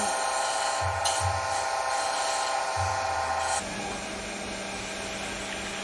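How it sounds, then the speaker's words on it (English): A steady, whirring rasp of sandpaper against a wood pen blank spinning on a lathe runs continuously, with a few low thumps partway through before the tone drops slightly. "it's probably close to where we need to start sanding"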